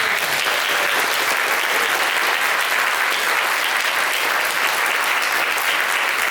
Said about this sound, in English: A big round of applause for Paschal, please.